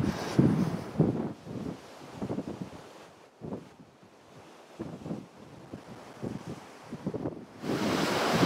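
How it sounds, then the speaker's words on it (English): Strong wind on a hilltop in Noosa National Park buffets the microphone in gusty rushes that rise and fall, loud and roaring throughout. "It's windy up here."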